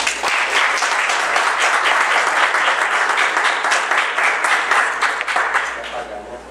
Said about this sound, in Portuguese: Vamos receber o professor com palmas.